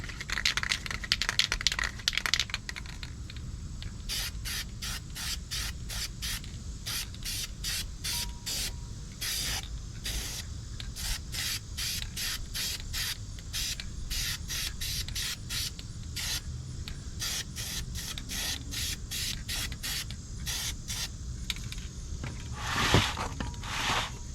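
An aerosol spray can coats the centers of car brake rotors for a Mustang, firing dozens of short, sharp hissing bursts in quick regular succession, close and loud, with a longer continuous spray at the start.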